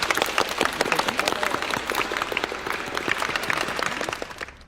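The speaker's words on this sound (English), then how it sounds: "round of applause for that" A crowd applauds to celebrate someone's university acceptance: dense, steady clapping fills the whole stretch at close range, with no break or fade until the very end.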